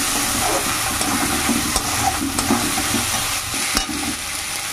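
Ground cumin paste fries in hot oil for a Bengali chicken-skin curry, with a steady, dense sizzle and occasional sharper crackles and stirring scrapes running throughout, close and fairly loud with no talking.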